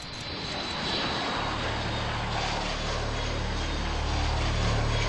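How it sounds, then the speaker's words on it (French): Loud, continuous jet engine roar building steadily as a Dassault Falcon 7X with winglets takes off at Istres, a broad rumbling whoosh with a low droning hum underneath. "un avion d'assaut décolle équipé de winglets"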